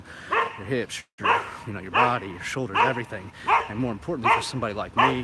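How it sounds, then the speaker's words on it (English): Dog barks break out intermittently behind someone talking continuously about climbing's effect on the joints, the yaps and woofs partly masked by his voice. "sorry about that dog."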